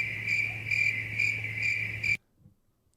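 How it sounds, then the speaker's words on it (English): Crickets chirp as a played sound effect, a steady trill pulsing in regular bursts before cutting off abruptly, with a faint knock after. "it's supposed to be crickets"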